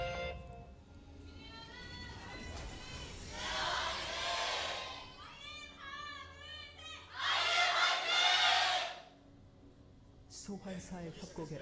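Esports arena crowd at a League of Legends LCK Summer 2015 match between Jin Air Green Wings and Longzhu IM, roaring in two loud swells over steady commentary.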